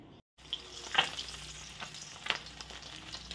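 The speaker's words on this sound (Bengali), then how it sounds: "দেখো মাছটা ভাজা হচ্ছে" Fish sizzling in hot oil in a kadai, a loud continuous frying hiss with a few sharp clinks and scrapes of stirring near the start and middle, heard close with no talking.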